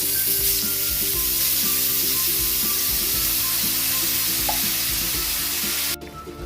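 Corned beef sautéing in a pan gives a loud, steady sizzle and crackle close up, with a faint stirring scrape and a hum underneath, until the sound drops off abruptly near the end.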